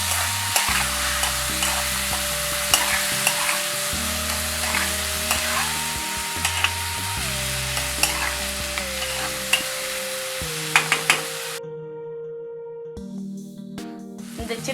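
Tomatoes, onions and ginger sautéing in a pan for prawn thokku give a continuous sizzle with stirring clatter, set against a steady tonal hum from another source, and no one speaks.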